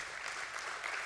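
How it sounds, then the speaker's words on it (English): Applause for the Borosil Scientific team at a stock exchange listing ceremony, a brief wash of continuous clapping from a crowd. "yes, we can definitely clap for them"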